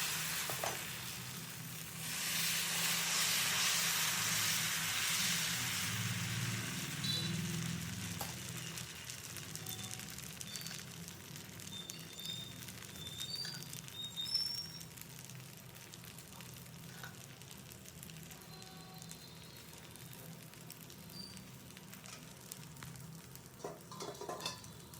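Dosa frying in ghee on a hot pan, a steady sizzle that swells loud early and then settles into a softer continuous crackle, with no talking.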